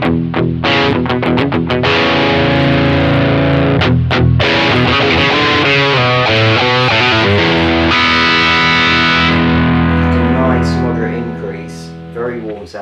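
Electric guitar played with its volume knob turned down to about 3, giving a warm, slightly driven tone; loud strummed chords and ringing notes played close, fading out at the end.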